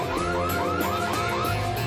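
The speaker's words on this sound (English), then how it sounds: "And activate the alarm." A BMW Vision ConnectedDrive concept car's alarm sounds near and loud, a repeating rising electronic whoop that cycles about six times in quick, regular succession.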